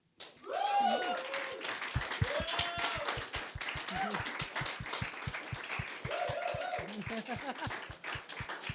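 Scattered audience clapping at an event sounds alongside excited shouts and whoops, with rhythmic claps running steadily under voices throughout.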